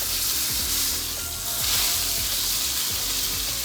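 Wild coho salmon fillet searing in a hot pan, a steady loud sizzle with crackling spits and occasional scraping or shifting sounds, no voices.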